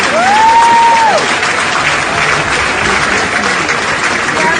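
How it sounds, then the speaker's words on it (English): An audience at a political gathering applauds a donation of 25 million naira with sustained, dense clapping throughout, loud and close, a brief whistle-like tone rising over it near the start. "Is that how we clap for 25 million?"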